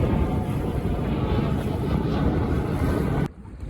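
Wind rushing over a Buccaneer 18 sailboat under way, a loud, steady broadband roar with buffeting on the microphone that cuts out abruptly near the end, leaving a quieter background.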